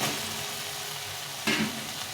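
Fried potatoes drop into hot spiced masala in oil, giving a steady close sizzle with a brief louder hiss as they hit the pan.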